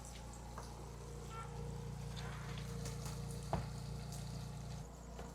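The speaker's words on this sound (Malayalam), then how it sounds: "ഇത് വറുത്തെടുക്കാൻ കുറച്ച് സമയം എടുക്കുമല്ലോ ഒരു രണ്ട് മൂന്ന് പ്രാവശ്യം ഇടേണ്ടി വരും" Threadfin bream fish frying in a pan in a caravan kitchen, a steady low sizzle and bubbling running throughout with a brief clink near the middle, fairly faint and with no talk.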